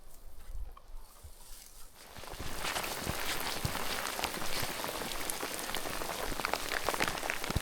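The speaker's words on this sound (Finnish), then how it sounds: "Saatiin ihan kunnon sade sit kuitenkin ja ukkostakin tossa vähän" Heavy rain in wilderness at Lemmenjoki National Park, Finland, starting after a quiet moment and becoming a dense, continuous patter with sharp drop impacts close by; no distinct thunder stands out, and no one talks.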